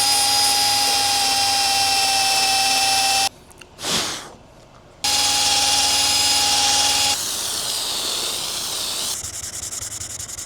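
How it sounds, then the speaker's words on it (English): A power sander works painted trim on a Volvo V60, giving a loud steady whine and hiss that drops out briefly, then returns and changes pitch as the tool moves. "I decided that I'm going to just sand it down, polish it after"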